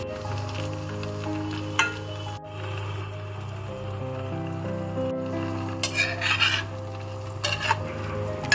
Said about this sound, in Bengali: কড়াই গরম হলে পরিমাণ মতো তেল দিয়ে আলু ভেজে নেব।